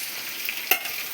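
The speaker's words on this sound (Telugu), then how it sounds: "పోపు వేసాను." Spices for tempering crackle and sizzle in hot oil before amaranth leaves go in for a stir-fry: a steady close hiss with one sharp pop near the end.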